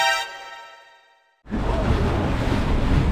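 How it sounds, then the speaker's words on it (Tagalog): Strong wind and large waves at sea on a boat heading home to port. A fading tone drops to near silence, then a loud, steady roaring wash of wind and surf sets in. "malakas pa rin yung hangin. Kahit malakas yung alon,"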